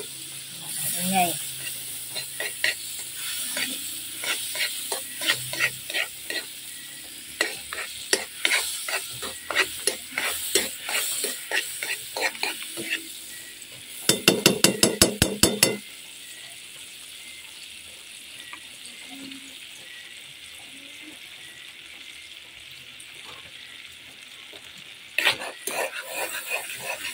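Margarine sizzles and crackles steadily as it melts in a hot pan, with scattered pops and a brief louder burst of sharp clicks partway through.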